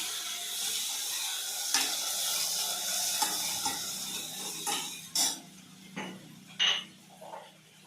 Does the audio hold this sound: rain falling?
no